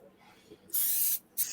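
Canola oil spray butter hisses from a can in two short bursts, the first longer, with a quiet room between them.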